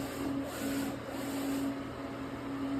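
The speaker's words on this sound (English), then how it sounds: "So we'll let it do its nozzle check." A DTF printer with four print heads runs its nozzle check, giving a steady mechanical whir with a sustained low hum and a faint rubbing rasp, continuous and fairly close, with no talk.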